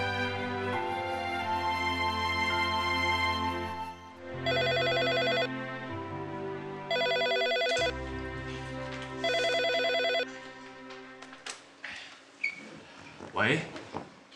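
A telephone rings in short repeated bursts indoors, three clear rings spaced about two seconds apart, followed by shuffling and handling sounds.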